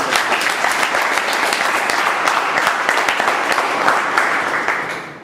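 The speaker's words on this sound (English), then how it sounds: "So big round of applause once again." A conference audience gives a round of applause, a dense, even wash of many hands clapping for about five seconds before tapering off at the end.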